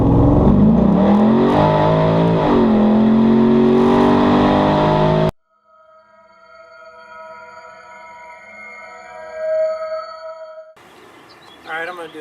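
LS7 V8 engine in an S10 revving at full throttle, a loud rising and falling roar for about five seconds that cuts off abruptly, followed by quieter tonal sounds.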